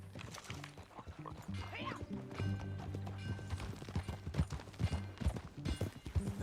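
Horse hooves clip-clopping at a riding pace in the Red Dead Redemption 2 video game, a steady rhythmic clatter running beneath music and occasional voices.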